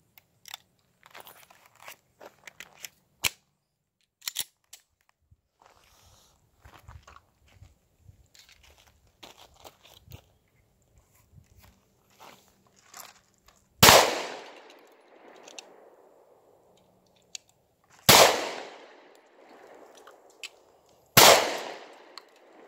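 Live-fire pistol practice shot left-handed by right-handed shooters, three loud sharp reports spaced a few seconds apart, each with a short echoing decay, after quieter handling clicks and rustling.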